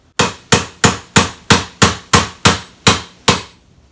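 Ten sharp metallic hammer blows drive a pin into an aluminum sport pedal on a Lexus IS, in a steady, even rhythm, close and loud, each ringing briefly before the next.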